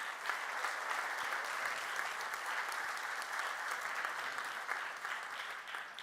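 Steady, even applause from an audience at an innovation award ceremony, honoring the runner-up, a continuous wash of many hands clapping for about six seconds with no talk over it.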